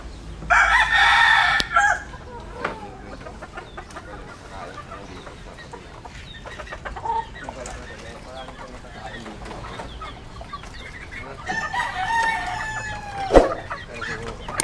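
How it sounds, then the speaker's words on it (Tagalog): A broodcock rooster, a three-time winning gamecock, crows loudly and close at the start and again near the end, with softer clucks and farmyard noises in between. "So yan po yung broodcock namin guys"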